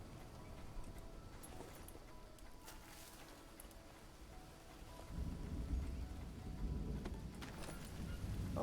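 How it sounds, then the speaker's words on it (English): Rain falling in the survival video game Green Hell, a steady broadband wash of drops that swells noticeably louder midway and keeps going to the end, with no talking. "Oh no, come on, don't rain."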